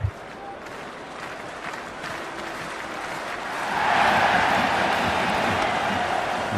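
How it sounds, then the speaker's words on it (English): A stadium crowd roars at an IPL cricket match between CSK and DC in the video game Cricket 26, a broad wash of cheering and applause that swells noticeably louder partway through. "already the crowd making a hell of a racket"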